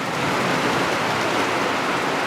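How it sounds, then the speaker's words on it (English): Heavy rain pours down outdoors, a constant loud hiss with no breaks and no voices. "Pouring down rain."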